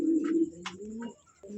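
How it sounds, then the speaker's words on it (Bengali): Pigeons coo close by in a few soft, low, throaty phrases, brief calls with short pauses between them, quiet and alone without talk. "ডিম সহ দুইটা এই কবুতর দুটা"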